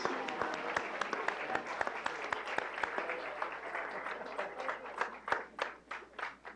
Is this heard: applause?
yes